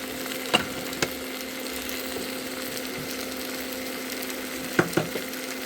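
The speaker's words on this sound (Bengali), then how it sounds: "ভালো করে আমি কষে নিই, আপনারা দেখুন।" Spiced potato curry (aloo dum) with peas sautéing in a pan, giving a steady low sizzle with a few sharp clicks of stirring against the pan, near and alone.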